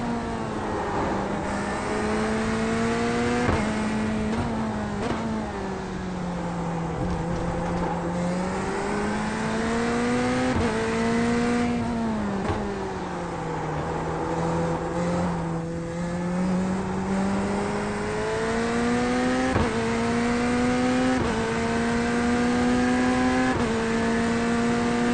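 A race car engine in a racing simulator drones and revs continuously, pitch climbing and falling as it accelerates through gears, with sharp shifts marking each change and no voices over it.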